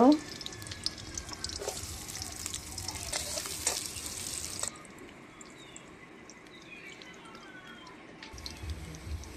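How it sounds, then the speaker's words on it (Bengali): Onions fry in hot oil in a home kitchen pan, a steady close sizzle with a few clinks from stirring, loudest at first and then easing to a quieter hiss. "তো প্রথমে তেল দিলাম, তারপর পেঁয়াজগুলো ভেজে নিব"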